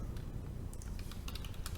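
Rapid keystrokes on a computer keyboard, a steady run of light clicks typed close by against a low hum of room noise, with no talking.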